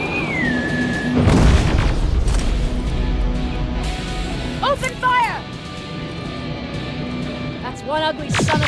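Combat in the video game Terminator Resistance, with a heavy boom and dense crashing blasts that stay loud through the scene, while voices and synthetic whooping effects cut in now and then.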